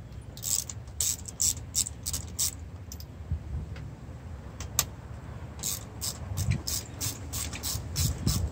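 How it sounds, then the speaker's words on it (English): A hand ratchet clicks in repeated bursts while spark plugs are loosened from a car engine during a tune-up, its sharp pawl clicks close and fairly loud, with a short pause in the middle before the ratcheting resumes. "now we pull the plugs out"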